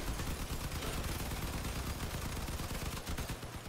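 Machine guns chatter in a vehicle battle in Crossout, a dense, continuous rattle of rapid shots that holds steady at moderate loudness for the whole stretch.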